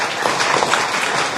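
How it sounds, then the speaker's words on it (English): A brief, dense round of audience applause for the Deputy Prime Minister, Rebecca Kadaga, at an event, a steady wash of many hands clapping at once. "the Right Honourable Deputy Prime Minister needs another round of applause"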